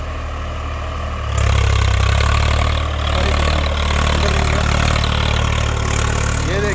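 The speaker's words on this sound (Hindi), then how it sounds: "गीला खेत है और ट्रैक्टर काफी अच्छा चल रहा है" A Swaraj 855 4x4 tractor engine rumbles steadily, heavy and close, growing louder after a second as it works a wet field with a cultivator.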